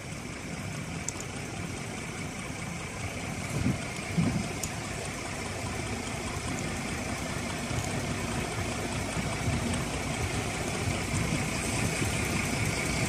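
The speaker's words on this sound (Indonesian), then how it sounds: "Mesin kapal Bago perahu sudah bunyi dan segera kita akan berangkat sapo" Bago wooden fishing boat engine running steadily at idle, a low continuous drone at moderate distance with wind and water noise around it.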